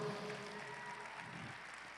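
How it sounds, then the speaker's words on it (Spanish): A church congregation claps together in a dense, even wash of applause that fades slightly over a couple of seconds. "Dale un aplauso a nuestro Dios."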